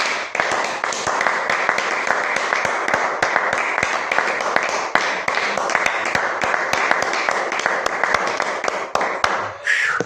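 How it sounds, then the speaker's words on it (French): Sustained congregational applause at a French-speaking revival church service, dense sharp claps in a steady fast rhythm, loud and continuous for several seconds before tailing off. "Applaudissons pour le Seigneur Jésus."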